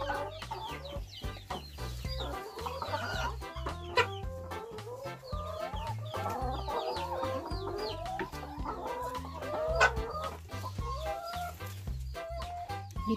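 Laying hens clucking on a small rural farm in northeast Thailand, a dense, continuous chorus of overlapping clucks and squawks from many birds close by, with no voices.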